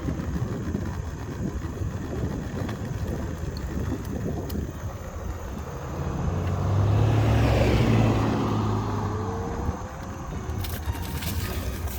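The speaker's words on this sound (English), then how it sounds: "There's a truck coming, so I'm trying to get over as far as I can for him." A truck drives past on a road near Gettysburg, Pennsylvania, its low engine rumble swelling to a loud close pass around the middle, then fading under steady wind noise.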